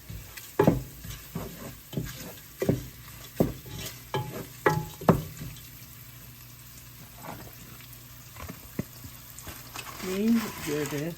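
Whole fennel and cumin seeds, added after cloves and other whole spices for a chicken curry, are fried and stirred in a pan: a series of sharp scraping strokes over a low sizzle, ending with a brief voice.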